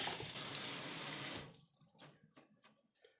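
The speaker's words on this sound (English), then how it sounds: "So let's give her a good rinse here." Running water streams steadily over a headlight lens from a VW MK2, a loud continuous rinse that stops abruptly, leaving faint drips and small handling sounds.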